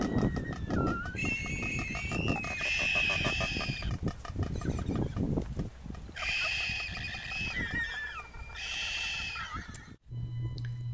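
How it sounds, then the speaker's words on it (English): Frigatebirds at a nesting colony give wailing, warbling calls in repeated drawn-out bursts, fairly close and clear over a busy background of chattering and rustling, with a short quiet gap near the end. "You can hear the wailing calls of the frigate birds, which could be used on Halloween to haunt a house."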